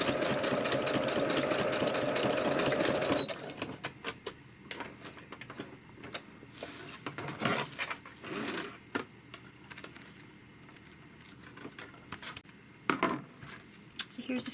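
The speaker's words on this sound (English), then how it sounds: "I'm going to go over the stitches that I stitched already." Sewing machine stitching a washcloth, a rapid loud mechanical whir for about three seconds, then stops, leaving quieter handling clicks and rustling.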